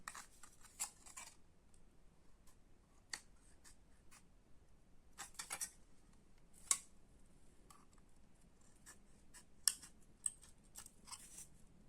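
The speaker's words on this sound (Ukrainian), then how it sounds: "ми використовуємо не ножиці по металу, а звичайні е, гострі канцелярські ножниці" Sharp office scissors snip thin sheet metal for making pysanka writing styluses, giving faint, irregular crisp clicks and cuts scattered across a quiet background.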